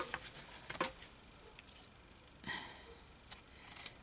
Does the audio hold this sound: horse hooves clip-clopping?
no